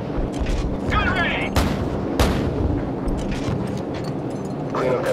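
Gunfire in the video game Call of Duty 4: Modern Warfare, with several sharp, loud shots and booms over rumbling battle noise, while radio-style voices talk over the action.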